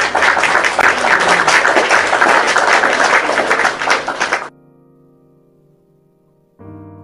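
Dense applause and clapping from a crowd for Muhammad Nasir, loud and sustained for about four seconds before cutting off abruptly, leaving a quiet hum.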